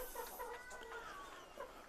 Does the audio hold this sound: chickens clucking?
yes